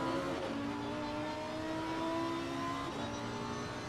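Lamborghini race car at Imola shifting up to fourth gear, its engine droning loud and steady as the revs climb in long rising tones, with no talk over it.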